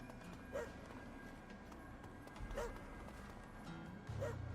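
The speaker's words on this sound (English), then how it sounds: "I don't know how to capture this dog." A dog in the Astral Chain video game barks in three short, separate bursts spaced about two seconds apart, faint and set against a quiet game background.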